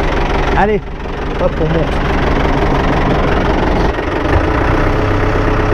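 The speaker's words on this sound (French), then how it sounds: "Je vais commencer déjà à mettre 1000 tours au moteur." An old farm tractor engine idles steadily and close, a continuous low rumble throughout, while a person talks over it briefly near the start.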